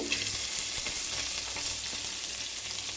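Green chilies, curry leaves, cashews and raisins fry in hot oil in a pan, giving a dense, even sizzle with a few soft stirring knocks, close and steady throughout, no voices.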